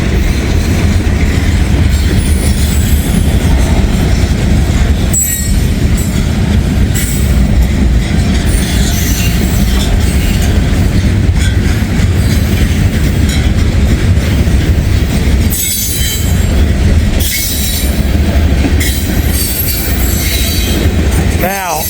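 A train rolls past at close range, loud and steady throughout, with wheel squeal and rumbling rail noise, a northern car running in the consist.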